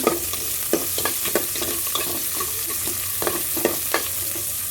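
Onions, ginger and spices sauté in a hot pan with a steady sizzle and frying crackle, punctuated by several sharp scrapes and clanks of stirring, close by with no talk.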